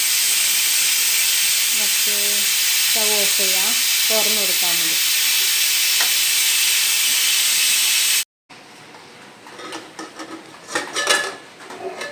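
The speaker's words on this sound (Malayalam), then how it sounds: "ഒന്ന് രണ്ട് വിസിലടിച്ചു കേട്ടോ അതിന് ഒന്നുകൂടി അടിക്കട്ടെ" A pressure cooker cooking sweet potato releases a loud, sustained steam whistle, cut off abruptly partway through, after which faint kitchen clatter follows and a voice speaks briefly over it.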